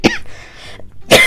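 A sharp cough bursts out at the start, a quieter stretch follows, then a second, louder cough or throat-clearing comes close up near the end, with no talking.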